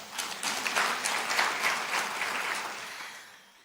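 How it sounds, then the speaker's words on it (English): An audience at a business conference gives a round of applause, dense clapping rising quickly, holding steady, then tapering off toward the end at moderate volume. "You can clap for Absa."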